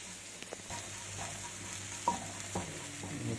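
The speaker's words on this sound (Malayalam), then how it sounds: "ജസ്റ്റ് ഇളക്കുക, മുപ്പിക്കുക." Chicken with chili powder being stirred and fried in a pan, a steady soft sizzle with occasional light scrapes and taps of a spoon, close but quiet.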